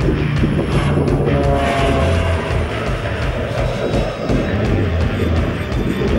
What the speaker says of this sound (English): This is a PAC, or Pacific Aircraft 750 turbine.